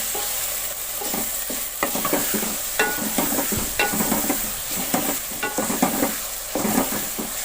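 A pumpkin curry is stirred in a pot over the heat, with repeated scraping strokes and light clinks from the spoon over a steady low sizzle, close by and without talking.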